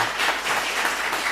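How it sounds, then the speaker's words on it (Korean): A congregation applauds during a Sunday church service, with dense, even clapping from many hands throughout a brief stretch. "우리 박수로 뜨겁게 격려해 주시기 바랍니다"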